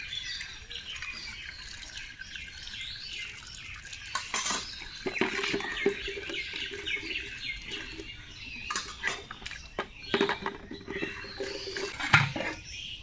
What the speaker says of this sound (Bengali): তো দেখো আগে কালি ধুয়ে নিই এরকম ভাবে।